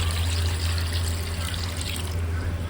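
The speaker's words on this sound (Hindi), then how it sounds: "5 लीटर पानी ऐड कर देंगे।" Water, five litres of it, pours into a cooking pot of Peshawari beef paye spiced with garam masala, a steady continuous splashing rush with a low hum underneath and no talking.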